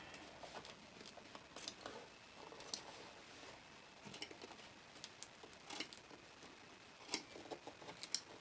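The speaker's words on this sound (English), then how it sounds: "I'm gonna have to get some small scissors to cut in" Small scissors snip at chalice embroidery on fabric, giving faint, sparse clicking cuts scattered irregularly over a quiet background, each snip soft and close.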